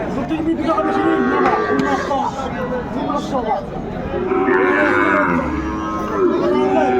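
Sahiwal cattle at a crowded livestock market, several long lowing moos, some near and some farther off, over steady crowd chatter and people talking close by.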